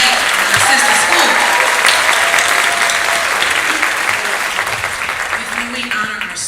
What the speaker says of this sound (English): So let's clap it up for Ms. Wright and our sister school.